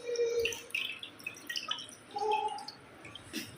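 Water drips and trickles as defrosted meat is lowered into fresh water, a few scattered splashes and droplets close by, fairly faint with quiet gaps.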